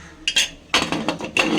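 A steel saucer set upside down inside a pressure cooker while making egg junnu, giving a few sharp metallic clinks and scrapes in quick succession, close and clear with no talking.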